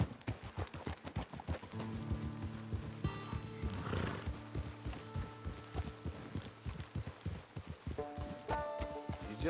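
Horse in the video game Red Dead Redemption 2 whinnies loudly partway through, over a steady clip-clop of hooves walking, with ambient game sounds throughout.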